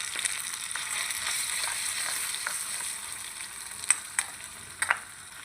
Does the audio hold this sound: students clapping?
no